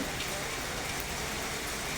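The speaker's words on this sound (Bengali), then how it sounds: "এই যে দেখা যাচ্ছে ঝুম করে বৃষ্টি নেমে এলো" Dense, steady downpour roaring evenly across the whole moment, a thick wash of heavy rain with no breaks.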